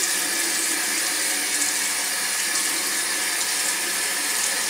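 Tap water running steadily into a bathroom sink during face washing, a constant close hiss and splash with no talking.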